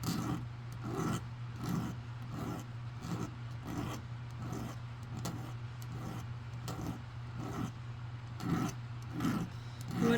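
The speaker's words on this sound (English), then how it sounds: "Here I'm gonna just cut and file, cut off excess as close as I can." Hand filing trims excess metal from a small soldered frame, the file rasping in a steady back-and-forth rhythm of short strokes over a constant low hum.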